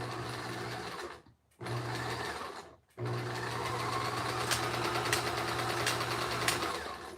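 An electric sewing machine runs steady bursts of stitching through puppet fabric, pausing twice briefly before a long continuous run of close, even humming and needle rattle.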